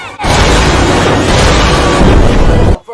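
A loud, sustained blast fills the whole stretch, a dense roaring burst of explosion effect that holds steady for over two seconds and then cuts off abruptly, with no voices over it.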